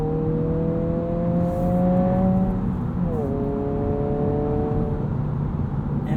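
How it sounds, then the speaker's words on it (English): Engine of a 2022 Honda Civic Si Sedan revving up and easing back in a steady, droning rise and fall, heard close from inside the car with continuous road and engine noise. "You can rev this thing out."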